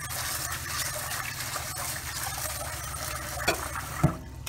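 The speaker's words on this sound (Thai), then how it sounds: "นี่เอาไปล้างน้ำ สักประมาณ 3-4 น้ำให้มันหายขุ่น" Glutinous rice being rinsed in water, stirred and swished by hand in a pot, a steady close wet sloshing with a couple of louder splashes near the end.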